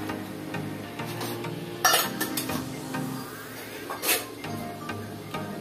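A spoon stirring chicken khichuri in a pot, scraping and clinking against the metal in a few soft strokes with a couple of sharper knocks, over a low steady background.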